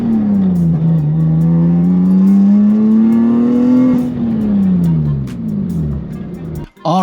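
A Lexus IS300 fitted with Flashark aftermarket headers drives by loud and close. Its deep engine drone rises and then falls away, with no talk, before cutting off abruptly at the end.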